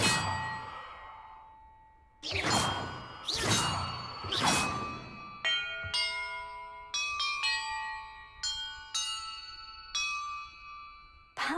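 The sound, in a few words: bells ringing in video game Hogwarts Legacy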